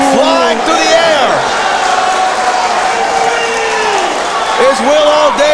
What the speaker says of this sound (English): the crowd absolutely loves what they are seeing